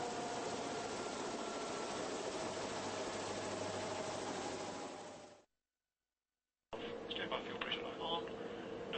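A turbine engine runs a motoring cycle near idle cutoff, giving a steady, close broadband roar with a faint whine that cuts out to silence for about a second before resuming.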